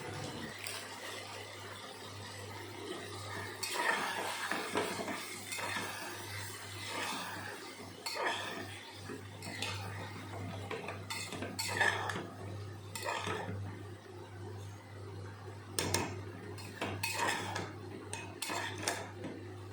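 Chopped tomato and chicken masala stirred and sautéed in a pressure cooker pan for a Bihari-style egg curry, heard as repeated scraping and clanking of a ladle against metal, fairly soft over a steady hum.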